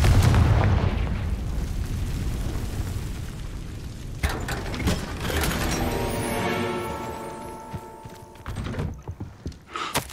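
Confringo fire-blast spell going off in the video game Hogwarts Legacy: a heavy, booming blast opens the clip, then rolling rumble and crackling debris slowly fade, with a few sharp bursts near the end and no speech.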